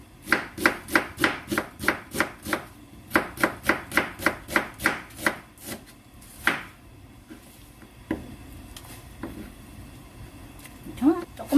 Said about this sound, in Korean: 양파 한 개만 썰어 넣을게요